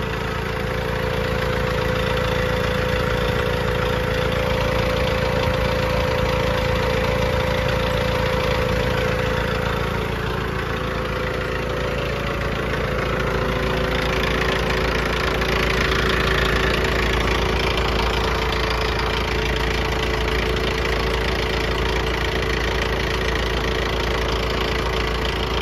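A Pittsburgh 12V 150 PSI air compressor runs steadily while inflating a tractor tire, with a loud, continuous motor drone and a mechanical hum that holds constant throughout.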